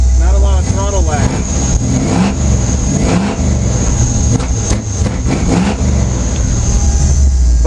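Big-block Chevy V8 in a caged K5 truck revving hard and repeatedly, a loud, close, throaty roar rising and falling in quick blips, with a person talking over it.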